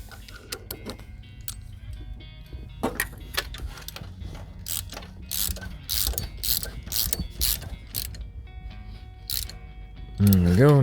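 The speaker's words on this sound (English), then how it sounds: "Then we tighten up the spring again." The timing belt tensioner spring on a 1985 Merkur XR4Ti engine is tightened with a ratchet, giving close, irregular bursts of clicking and metallic clatter, and a voice speaks briefly near the end.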